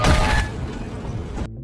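A clothing store explodes in a film scene: a loud, dense blast with crashing debris that rumbles on for over a second before cutting off abruptly.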